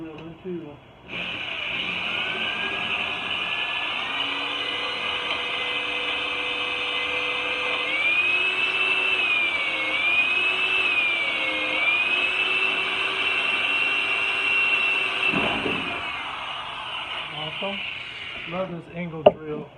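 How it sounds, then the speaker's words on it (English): A power drill (angle drill) whines continuously at close range drilling into a Jeep Wrangler JK body, its pitch wavering slightly as it bites in, then cuts off abruptly near the end. "Love this angle drill."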